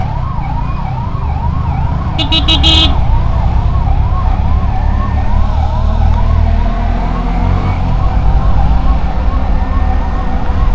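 A loud, nearby ambulance siren cycles continuously through its rising and falling wail, caught in a traffic jam, with a brief horn blast partway through and engine rumble beneath.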